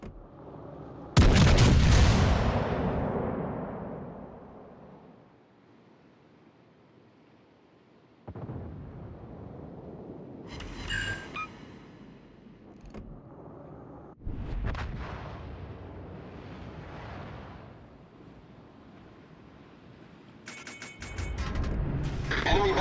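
Naval guns boom in a battleship video game, several heavy blasts spaced apart, each with a long rumbling decay and quieter stretches between.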